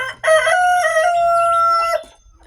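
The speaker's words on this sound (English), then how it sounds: "now I do got roosters" A rooster crows once, loud and close, in a long, strained cock-a-doodle-doo that rises and then trails off.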